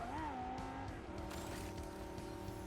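Race car engine in the mobile racing game Ace Racer, a continuous loud whine with pitch sweeps and tire squeal, steady and close throughout with no talking.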